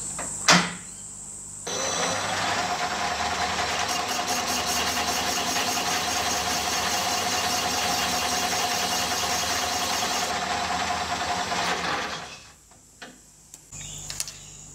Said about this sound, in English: the last thing I'll do here now is just put a chamfer on the back edge of that flange